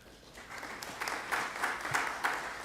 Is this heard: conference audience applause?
yes